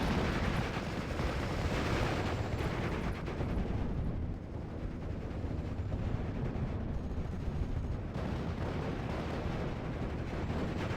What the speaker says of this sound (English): Also got some close range howitzer shots.